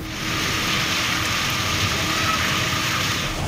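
Heavy rain pours steadily in Lahore, a dense continuous hiss of downpour on surfaces held at an even, loud level with no talk over it.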